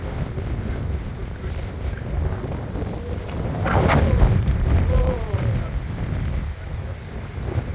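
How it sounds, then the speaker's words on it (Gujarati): Strong wind gusts against the microphone outdoors in a cold UK garden, a steady low roar that swells louder midway and then settles back. "પવન અવાજ કેટલો આવે જો."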